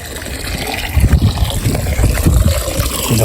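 Water is scooped and poured from a metal pot while filling up to wash a motorbike outdoors, giving uneven sloshing and splashing bursts at close range with a steady background wash and no talking.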